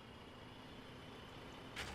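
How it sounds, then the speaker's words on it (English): Military trucks rumble in the online war game Foxhole, a steady, dense mechanical drone that fills the whole stretch, with a brief brighter rattle rising near the end. "All you can hear is the clinking of the fucking trucks."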